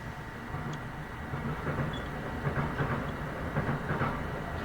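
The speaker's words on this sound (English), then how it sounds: "You can hear that train?" A train passes at a moderate distance, producing a steady broadband rumble with faint rhythmic clatter that holds level throughout, with no voices.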